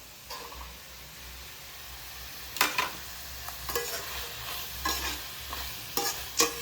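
Tomatoes stirred into coconut masala frying in a pan: a steady low sizzle runs throughout, broken by sharp scraping clatters of the spoon in bursts through the second half, with no talk.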